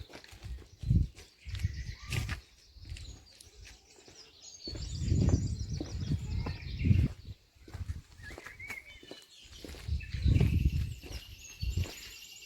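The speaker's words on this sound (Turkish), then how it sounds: "Kuş sesleri ovalara yayılır." Birds chirp and call outdoors in the countryside of a village in scattered bursts, with footsteps and occasional animal sounds mixed in at moderate distance.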